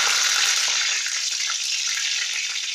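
Strips of lemon peel sizzle in hot frying oil with a steady, dense, close hiss that holds at an even loudness throughout, with no voices.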